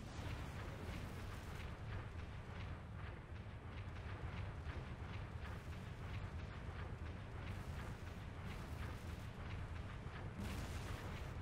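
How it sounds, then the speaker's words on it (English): A Covenant anti-air gun keeps firing in the Halo 3 campaign level The Storm, a dense, continuous barrage of booming bursts and blasts that overlap in a heavy roar with no pause. "There's a Covenant AA gun in the next area."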